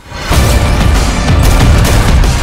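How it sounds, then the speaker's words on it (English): Action movie trailer gunfire erupts as a loud, sustained roar of shots and booming impact that fills the whole moment after a brief quiet start. "Are you really gonna shoot me, Travis? Yes, I will"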